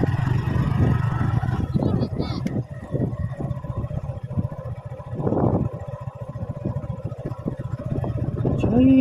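A boat's engine runs on the water at a theme park, a steady mid-pitched drone heard close by, with people talking over it.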